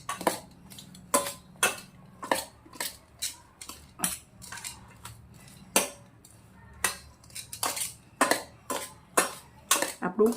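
Spoon clinking repeatedly against a steel bowl while tandoori corn chaat is stirred, a steady run of sharp metallic taps at uneven intervals, close and fairly loud with no voices.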